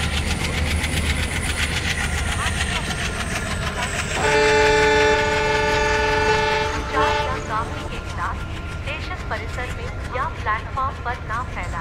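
An Indian Central Railway train on the Nagpur route in the Train Simulator game rumbles steadily along the track. A long, loud two-tone horn sounds midway, followed by a rhythmic clatter of wheels as the run continues.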